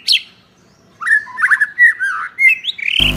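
An Oriental magpie-robin (murai batu) kept as a cage bird sits outside a house and calls, giving a quick run of close, loud, varied chirps and whistled phrases, cut off at the end by a sudden burst of noise.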